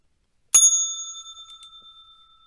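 A single bell strike rings out clearly after a short silence, its bright metallic tone sustaining and slowly decaying over about two seconds, like a market opening bell heard alone.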